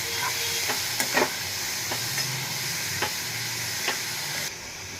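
Sprouted mung beans with added salt and turmeric sizzle steadily in a hot pan, while a spoon stirs through them with a few sharp, scattered knocks against the pan.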